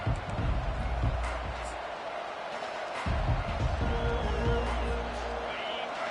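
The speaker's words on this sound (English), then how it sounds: "This crowd bringing an ear-splitting welcome to their visitors." Crowd noise from a College Football 25 stadium during a Notre Dame game, a broad roar of cheering that swells and dips under a commentator's voice throughout, with a brief quieter gap midway.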